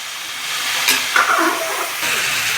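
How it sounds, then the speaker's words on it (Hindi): Meat for chicken korma fries in a pot with a bright, close, continuous sizzle, stirred once or twice with brief scraping swells. "ये देखिए व्यूअर्स, कितना ही प्यारा कलर आ रहा है गोश्त को भुनने में"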